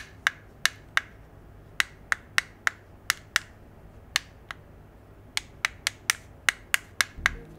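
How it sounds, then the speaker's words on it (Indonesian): Stiff buttons on a cheap Bluetooth speaker are pressed again and again, giving sharp dry clicks in small irregular bursts, close and distinct against a quiet background. "Kualitas tombolnya sesuai harga lah, keras banget, cetek-cetek gitu, bisa ditekan tapi nggak enak feelingnya."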